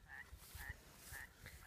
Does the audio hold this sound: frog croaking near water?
yes